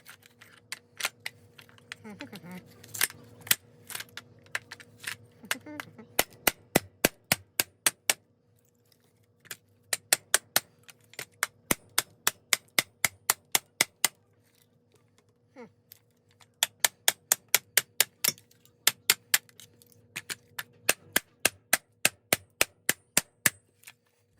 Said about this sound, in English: we're gonna gently go at this with a hammer